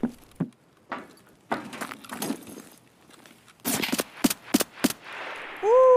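Suppressed AS VAL rifle fire in Escape From Tarkov: a few scattered shots and clatter, then a quick cluster of sharp cracks near the end, with a ringing tone trailing off.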